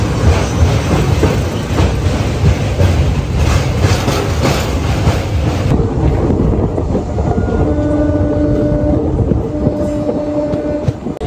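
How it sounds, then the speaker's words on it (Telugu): Delta Express passenger train rolling along rails near Tenali, a loud steady rumble with rhythmic clickety-clack of wheels, continuous and close, with the noise quieting and a faint tone emerging in the second half. "సో ట్రైన్ తెనాలి టౌన్ లో కూడా ఎంటర్ అయిపోయింది."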